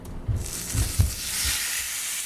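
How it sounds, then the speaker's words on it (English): Sous vide steaks are laid into a frying pan on high heat and sear with a steady hissing sizzle. A few soft thumps and clunks of handling sit over the close frying noise, with no talking. "Here we go into the frying pan."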